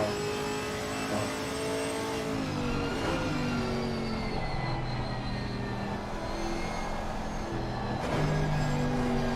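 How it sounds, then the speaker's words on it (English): Camaro GT race car in an ACC race, its engine droning loud and steady with shifting pitch as it downshifts two gears, other cars' engines layered around it. "Goes down 2 gears, because the Camaro needs that."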